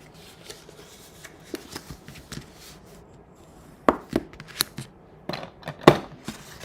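Cardstock folded along score lines for a tealight holder craft, giving soft rustles, then sharp creasing snaps and paper rubs clustered near the end, close and fairly quiet with no talking.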